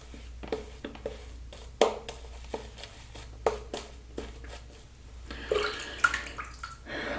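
Water trickles and splashes into a bowl of shaving cream during lathering, coming in short irregular bursts and drips over a low steady hum, quiet and close.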